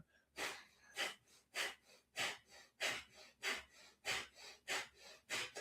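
Rapid, rhythmic breath of fire from a Kundalini yoga practice, about a dozen sharp nasal exhalations at a steady pace of roughly two per second, close and clear with no talking.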